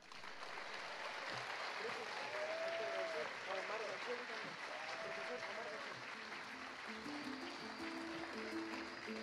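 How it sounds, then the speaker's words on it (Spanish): An audience at a school graduation for eighth-grade students gives steady, continuous applause that sounds somewhat distant, while background music plays faintly underneath. "Despedimos a los octavos años básicos con un caluroso aplauso."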